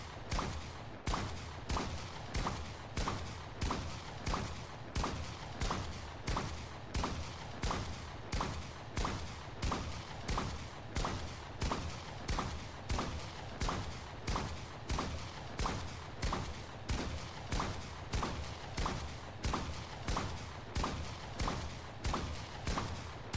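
Shotgun blasts from the game Fortnite fire in a steady, rapid series of roughly forty sharp, loud reports at an even rhythm, each followed by a brief mechanical pump, with no talking.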